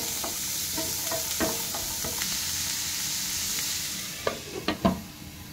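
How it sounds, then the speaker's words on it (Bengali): Carrots frying in melted butter in a pan for a vegetable soup, a steady soft sizzle close by, broken by scattered clicks of stirring that grow sharper and more frequent toward the end. "এই যে গাজর নিয়ে ভালো করে ভেজে নিচ্ছি। বাটার দিয়েছি প্রথমে আমি গরম করাতে"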